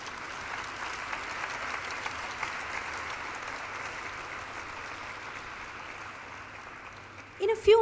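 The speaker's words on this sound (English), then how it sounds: "Let us have a huge round of applause for this" Sustained applause from an audience at a corporate celebration marking Persistent Systems' 15 years of listing on the NSE, a steady even roar of clapping that fades slightly and ends with a few brief louder sounds.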